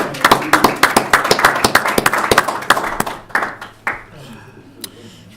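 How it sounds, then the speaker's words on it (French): A small group claps for a few seconds, scattered and uneven, then the clapping thins out and stops. "Là, on applaudit."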